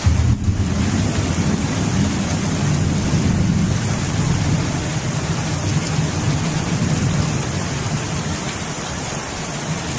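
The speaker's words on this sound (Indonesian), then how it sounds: "Nah, hujan." A loud, steady downpour of rain hisses without a break, with a heavy low rumble of thunder rolling underneath it for the whole stretch.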